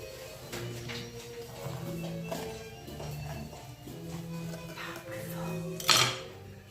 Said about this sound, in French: Nous allons passer ainsi maintenant à la découpe des poivrons.